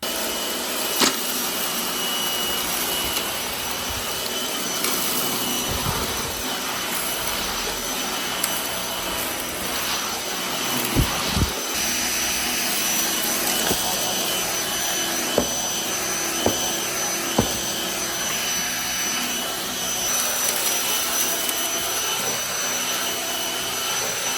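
A Gtech AirRam 3 Voice Assist vacuum cleaner runs continuously with a loud, steady high-pitched whine and rushing airflow, broken by a few short knocks and clatters as it moves over the floor.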